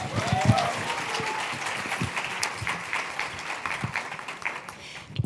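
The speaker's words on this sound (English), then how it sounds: "Please join me in giving Francisco another round of applause." Audience at a civil rights plenary lunch session clapping in a steady, even round of applause, with a few voices murmuring underneath.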